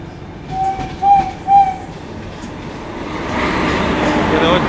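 A Tirupati–Hisar special train passes alongside on the adjacent track at a station, its rolling rumble swelling steadily after a few short horn-like tones, with a voice speaking over it.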